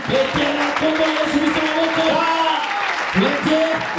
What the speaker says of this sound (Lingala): Il acclame pour le nom de Jésus